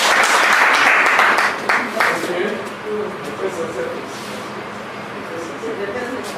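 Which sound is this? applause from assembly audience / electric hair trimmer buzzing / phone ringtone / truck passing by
applause from assembly audience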